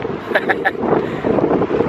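Outdoor wind in Lincoln City, Oregon rumbles and buffets the microphone in uneven gusts, with a few faint higher blips over the blustery noise.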